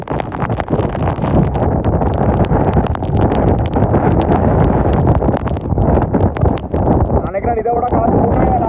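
Heavy wind buffeting the microphone with driving rain at Thondaimanaru bridge during a storm, a loud continuous roar with gusty rustling, with someone talking over it.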